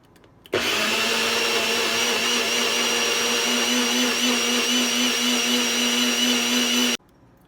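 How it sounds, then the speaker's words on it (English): A blender whirs through a smoothie, switching on abruptly and holding a loud, steady motor whine up close for about six seconds before cutting off. "And we'll blend it all up."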